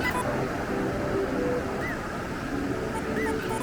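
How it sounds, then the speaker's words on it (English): Ocean waves roll onto a Costa Rican beach in a continuous, dense surf roar, with no clear breaks between them and wind noise mixed in. "these waves, they're no joke today."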